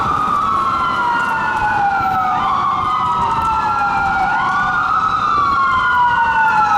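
A loud wailing siren sweeps up and down continuously over steady road noise, close by and dominating throughout.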